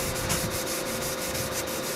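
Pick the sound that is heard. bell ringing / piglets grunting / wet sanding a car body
wet sanding a car body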